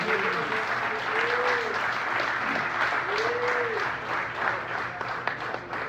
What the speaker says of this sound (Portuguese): dê para Jesus uma linda salva de palmas